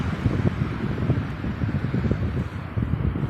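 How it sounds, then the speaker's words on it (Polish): Strong wind buffets the microphone in continuous low gusts while cycling, a rough rumbling roar with no voices. "wiatr jest tak niesamowity"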